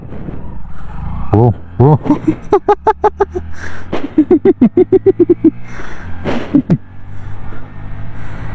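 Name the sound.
Hero Splendor Plus motorcycle pulling away in first gear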